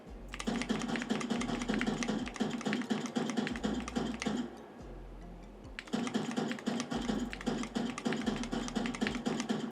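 Rapid, continuous clacking of a Lemokey L5 HE mechanical keyboard, close and steady, pausing briefly before resuming at the same fast pace.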